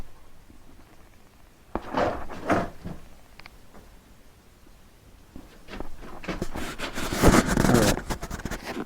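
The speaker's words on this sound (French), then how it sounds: "La porte coulissante." A sliding toilet door in a country house under renovation, opened and then closed, with two scraping bursts in the first part and a longer, louder slide near the end, close by and without speech.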